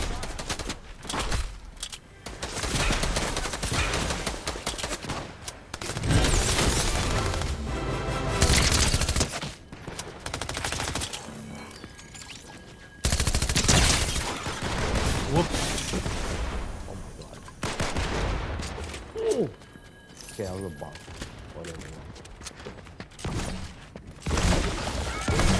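Rapid bursts of video-game gunfire from Fortnite Chapter 4 Season 1 crackle loudly and almost continuously, with repeated volleys and heavy booms, mixed with game music and a player's voice.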